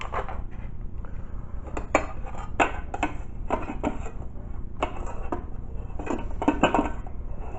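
Cooked yuca being pressed through a ricer into a dish, a series of irregular clicks, taps and metallic knocks of the utensil against the dish, close and fairly loud, with no talking.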